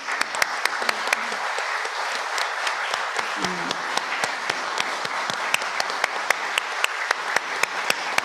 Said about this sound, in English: give a clap to the rest of the audience